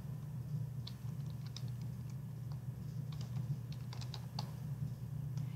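Steady typing on a computer keyboard while entering a name and date into a Python program, heard as close, light clicking keystrokes in uneven runs over a constant low hum, with no voices.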